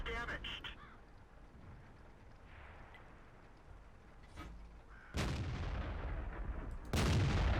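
Tank guns booming in World of Tanks: a faint distant shot early on, then two loud, close blasts with long rumbling tails, while a voice talks quietly in between.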